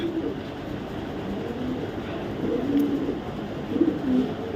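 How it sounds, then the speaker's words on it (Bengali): A blue checker female pigeon at a pigeon farm gives a few soft, low coos over a steady rumbling background, faint and intermittent. "এখানে দেখাবো একটা ব্লু চেকার একটা মাদি কবুতর"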